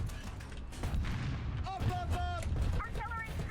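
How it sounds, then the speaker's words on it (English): Booming artillery strike explosions rumble through a ground tank battle in a video game, several heavy blasts rolling into one another with sharp crackles, while a voice speaks over the later impacts. "Artillery strike in your sector!"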